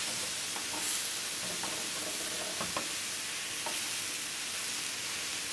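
Garlic and pork ribs fry in a pan, giving a continuous bright sizzle with soft scraping strokes as they are stirred, close and steady, with no voices.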